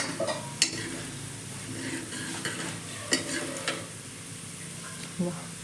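Garlic frying and sizzling steadily in a pan, with a spoon stirring and occasional clinks against the metal, close by.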